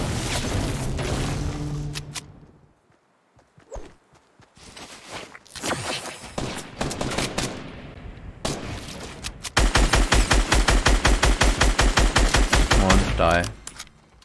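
Gunfire in Fortnite comes in bursts: scattered single shots and footsteps early on, then a long, loud rapid automatic volley near the end, with brief quiet gaps between.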